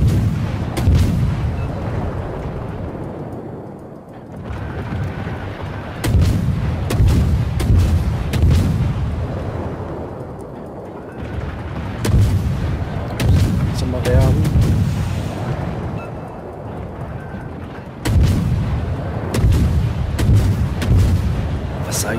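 Heavy naval gunfire from warships in the game World of Warships, with repeated booming salvos in clusters and a broadside of four guns firing together, loud and close, over rumbling battle noise.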